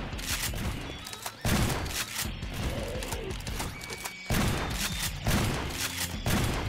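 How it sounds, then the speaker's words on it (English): Rapid bursts of gunfire pound against a monster in a Garry's Mod horror map, loud, dense volleys with brief gaps between them and no speech. "Shoot the monster, shoot the monster,"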